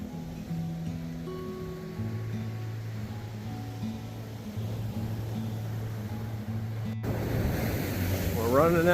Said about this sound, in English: really cool water crashing on the right side of it there